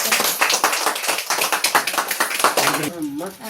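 A group of people clapping steadily for a few seconds at a New Year gathering at Devipuram, the applause dense and fairly close, fading out near the end.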